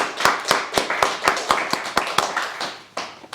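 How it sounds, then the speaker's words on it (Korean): Church congregation at a special dawn prayer service clapping together in encouragement, a brisk run of loud, evenly spaced claps heard up close with no talk over it. "박수로 한번 격려하겠습니다."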